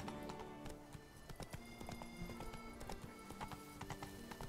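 Roach, the horse in The Witcher 3, gallops away from a cemetery with a steady, rapid clip-clop of hooves over a continuous music bed, all fairly quiet and with no speech.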